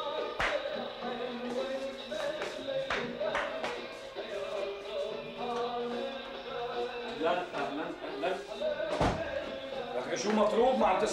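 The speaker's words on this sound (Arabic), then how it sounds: "ما عم تسمع الباب؟" Sharp door slams or knocks ring out in an indoor domestic scene from a Syrian TV comedy series, a few isolated hard bangs, with one loud hit near the end, over continuous dialogue and background music.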